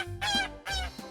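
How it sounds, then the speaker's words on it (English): A farm goose honks twice in quick succession, close and clear, with a short pause between the two calls. "Goose."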